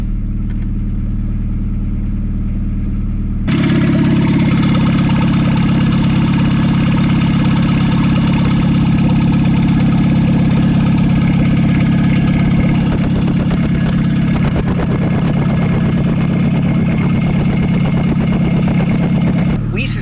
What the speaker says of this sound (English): what we want to do is run the car and see if there's still oil in the exhaust